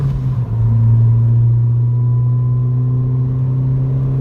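A car engine with an aftermarket MBRP exhaust hums steadily while driving at 4,000 RPM in fourth gear, a low, even drone with a slight rasp from the exhaust and no voices.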